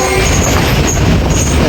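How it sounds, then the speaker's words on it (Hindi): The Awam Express train standing at a station in Pakistan, a loud steady rumble and hiss of the idling train with faint high squeals, close by, with no talk. "सामने खड़ी है 13 अब अवाम एक्सप्रेस।"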